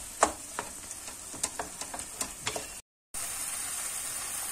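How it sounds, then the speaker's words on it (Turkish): Tomato paste is stirred and fried in a pan for moussaka, with a steady close sizzle under several sharp scrapes and taps of the utensil, then a brief dropout before the sizzling resumes alone. "Biraz bu şekilde de salçasıyla kavuracağım arkadaşlar."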